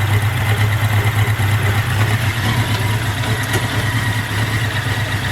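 A 1983 Honda Nighthawk 650cc motorcycle idles in neutral, a loud, close, steady low rumble with a slightly pulsing rhythm and no voices.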